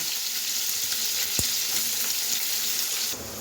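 Onion cooks in hot oil with cumin and asafoetida, making a continuous close sizzle broken by one sharp clink partway through.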